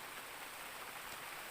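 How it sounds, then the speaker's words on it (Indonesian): Sudden heavy rain pouring down over a flooded farm field, a dense steady hiss filling the whole moment without pause, close and fairly loud, with no voices. "di sini ujuk-ujuk dres ya, dres hujan, jadi kita berteduh dulu kawan"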